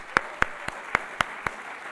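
Sparse clapping from an audience at a museum art talk on Dutch and European art, six distinct, evenly spaced single claps over a quiet room, sounding like one or two people rather than a full crowd.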